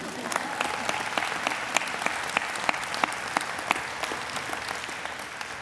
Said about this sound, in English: Yeah, go ahead, you can clap